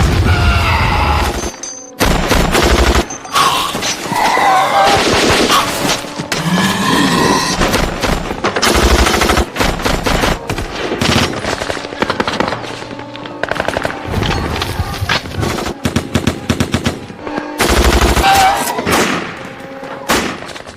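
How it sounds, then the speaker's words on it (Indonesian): Soldiers fire guns at zombies in the film 28 Days Later: dense bursts of automatic gunfire and booming shots crackle loudly and continuously, with brief pauses, over a dramatic film soundtrack. "Para tentara pun berhamburan membawa senjata mereka dan langsung menembaki zombie-zombie itu sampai"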